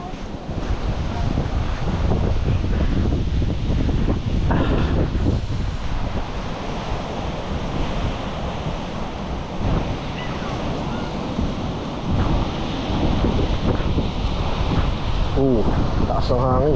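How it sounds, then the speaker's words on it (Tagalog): Strong wind buffets the microphone with a constant roar, mixed with crashing surf nearby at the seaside at Bucana; a voice speaks briefly under the noise. "Lakas ng hangin."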